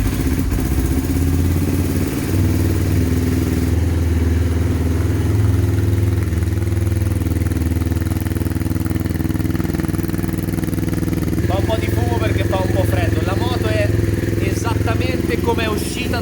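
A loud Yamaha R3 WorldSSP 300 racing motorcycle engine rumbles steadily close by, with clattering mechanical noise and a voice speaking over it.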